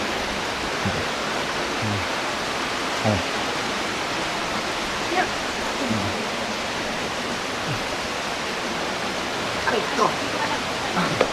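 A stream of water flows steadily along a mountain hiking trail at Sagada, a continuous rushing wash with faint bumps and footsteps underneath, heard close and even.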